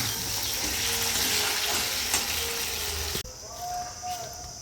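Chicken frying with potato, tomato, onion and spices, a dense close sizzle that cuts off abruptly partway through, leaving quieter kitchen background.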